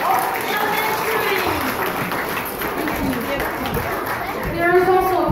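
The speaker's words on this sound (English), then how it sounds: "So let's give them a round of applause." An audience applauds an elementary school honors choir from Oakman and Becker Elementary at Oakwood Commons. The clapping is a steady, dense wash throughout, mixed with crowd chatter and children's voices.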